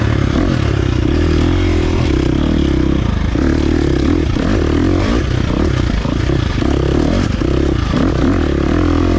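A 2023 KTM 350 XC-F dirt bike ridden hard, its loud, continuous engine roar rising and falling with clattering and scraping, close and steady throughout with no talk.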